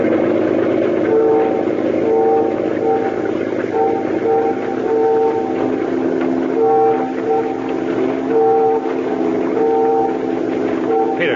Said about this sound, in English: Those ferry whistles. They're signaling us.